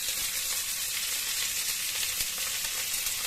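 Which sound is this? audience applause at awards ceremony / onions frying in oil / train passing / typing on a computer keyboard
onions frying in oil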